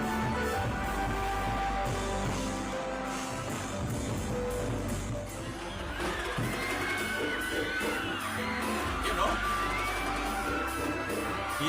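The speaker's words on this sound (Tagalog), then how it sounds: "Hiyawan ng taong bayan, ano?" Townspeople crowd shouting and cheering from benches and rooftops, a dense continuous roar with scattered whoops and yells, loud and steady throughout with a brief dip midway.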